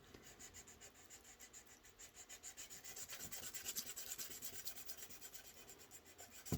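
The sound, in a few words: polishing a flute tenon with micro mesh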